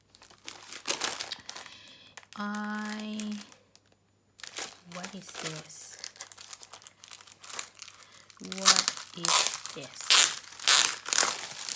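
Christmas wrapping paper crinkles and rustles loudly in bursts, with a person talking and questioning between the crackling handling noises.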